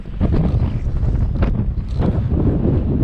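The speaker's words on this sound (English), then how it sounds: "I'm gonna try and block the wind best I can" Wind gusts buffet the microphone outdoors beside a dirt-hole trap set, a constant heavy roar with rising and falling surges and no speech.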